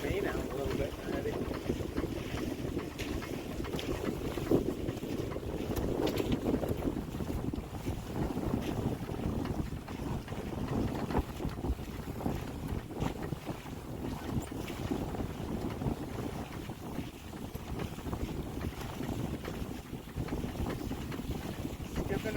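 A sailboat under sail moves steadily through water, with continuous wind buffeting and rushing water close by, and voices talking faintly at times over the noise.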